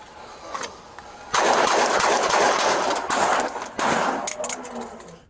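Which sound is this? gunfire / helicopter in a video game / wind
gunfire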